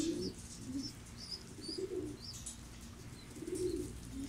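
Pigeons cooing softly in a cage, low throaty coos repeating every second or so at moderate distance, with faint chirps and light background noise and no talking.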